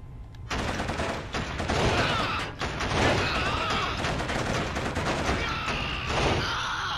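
Dense, rapid gunfire from the Killzone shooter game, with overlapping bursts and heavy shots pounding almost without pause for several seconds.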